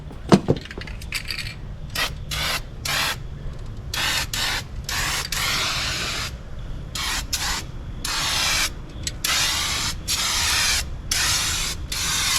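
Rust-Oleum Turbo paint sprays from an aerosol can in repeated hissing bursts, each a few seconds long with short gaps between, loud and close, laying down a coat, with no talking.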